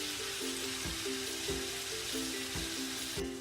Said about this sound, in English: the capsicum has been cooking for a little while